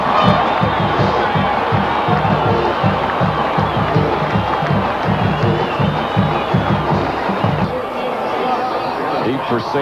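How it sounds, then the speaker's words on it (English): A large home crowd at a high school football game between Massillon and St. Ignatius in 2005 cheers and chants in a loud, rhythmic roar from the stands, steady throughout with many voices shouting together. "This is Tiger crowd on the far side of the field has come to life"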